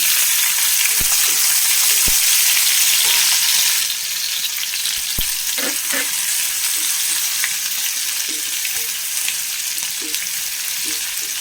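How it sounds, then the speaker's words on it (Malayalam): Garlic, green chilli and ginger sizzle in hot oil with cumin seeds, a steady bright crackle with occasional stirring knocks; the hiss drops in loudness partway through as the pan cools, and no one talks. "ജീരകം ഒന്ന് പൊട്ടി വന്നാൽ അതിലേക്ക് കുറച്ച് വെളുത്തുള്ളി, പച്ചമുളക്, ഇഞ്ചി"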